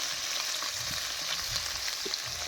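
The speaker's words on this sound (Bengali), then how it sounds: "পনিরটা হালকা লাল লাল করে ভেজে নিই" Paneer cubes frying in a pan over a wood or clay stove for matar paneer, a steady close sizzle of hot oil with a few soft stirring scrapes, no talking.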